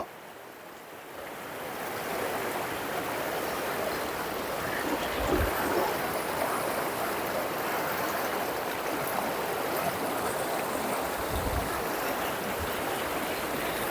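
A river runs through dense forest past rocks, giving a steady, close rush of flowing water that fills the whole stretch with no voices, broken only by a couple of soft low thumps.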